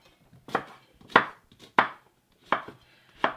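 Knife chopping vegetables on a cutting board for gluten-free cornbread, six crisp separate chops at an uneven pace, close and clear over a quiet background, no talking.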